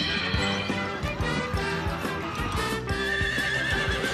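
A horse neighs and whinnies in a commercial, with rhythmic clip-clop hoofbeats and a music bed underneath, loud and continuous.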